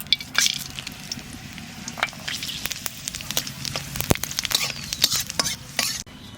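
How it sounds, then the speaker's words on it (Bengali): Cumin seeds and bay leaves crackle and spit in hot oil while a soybean curry is being cooked. Sharp pops burst out irregularly over a low sizzle, close and fairly loud, and stop abruptly near the end. "তেলের পর দিয়ে দেব জিরে আর তেজপাতা"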